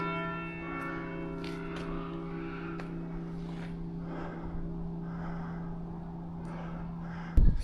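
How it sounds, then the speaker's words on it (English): Church bells ring in the spa town of Baden-Baden, Germany, with sustained, humming tones, steady and moderately loud throughout with no talk; a brief sharp knock is heard near the end. "Church bells."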